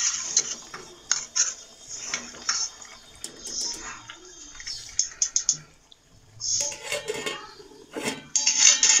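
A spoon stirs potato and eggplant with whole garam masala in a cooking pot, giving irregular scrapes, clinks and knocks against the metal with short pauses between bursts.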